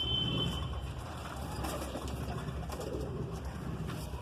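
Madrasi pigeons give soft, low cooing amid a steady background hum, faint and continuous over a few seconds.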